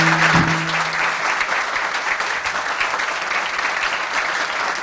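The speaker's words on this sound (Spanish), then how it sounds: "Yo quiero pedirle un fuerte aplauso al gobernador de Puerto Rico." Audience applause at a student forum with the governor of Puerto Rico at a Catholic university in Ponce, steady dense clapping that holds at full strength throughout, with a brief tonal sound near the start.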